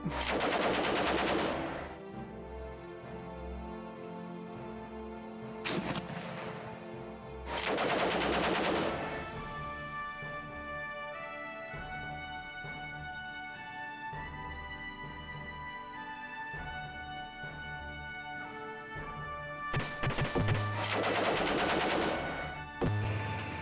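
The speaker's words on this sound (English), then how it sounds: "that was the sound of grenades failing to breach somebody's armor." Combat in the video game Armoured Commander II: bursts of rapid gunfire and repeated explosive grenade blasts failing to breach an armored car, with metallic ringing tones sustained between them, loud and continuous.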